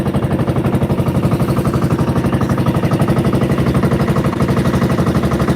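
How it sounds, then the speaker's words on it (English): An 18-horsepower single-cylinder diesel engine runs aboard a fishing boat, a loud, close, steady rapid thumping chug with no talk over it. "we are on one engine. That's an 18 horsepower diesel engine"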